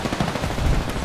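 Rapid automatic gunfire in the video game Apex Legends on the Kings Canyon map, a dense burst of close, loud shots packed into about a second with no talk.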